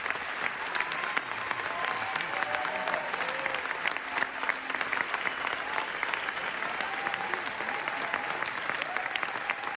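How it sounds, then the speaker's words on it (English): Sustained applause from a large audience at a Venice film festival screening, dense and steady for the whole stretch without letting up, with faint crowd murmur underneath. "the applause kept going"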